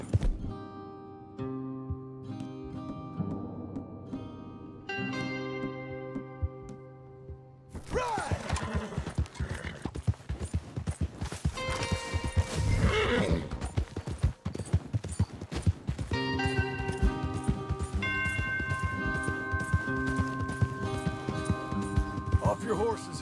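Horses ridden at speed in Red Dead Redemption 2, steady clip-clop of hooves running under game music, with a possible brief whinny and characters talking over the ride.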